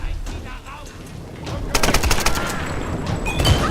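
Gunfire in Tomb Raider: a rattling run of rapid shots, louder in the second half, with a voice speaking over parts of it.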